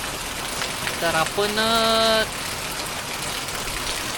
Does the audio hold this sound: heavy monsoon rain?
yes